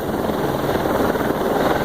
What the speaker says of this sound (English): These could just be, you know, television station helicopters.